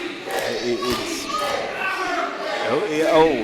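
Loud crowd at an independent pro wrestling show, shouting and yelling voices overlapping in a continuous roar, with a few dull thuds and some chanting-like rises, fairly close and busy throughout.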